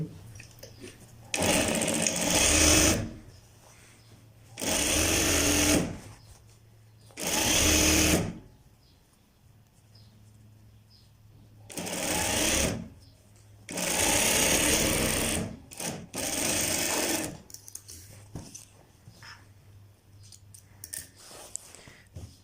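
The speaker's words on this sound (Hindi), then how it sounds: "ये देखें दोस्तों इस तरह आपने यहाँ हमने अपनी सिलाई मुकम्मल करनी है" Sewing machine stitching pieces of fabric for a child's pajamas, running in six loud whirring bursts of a few seconds each with quiet pauses and small clicks between, close to the machine.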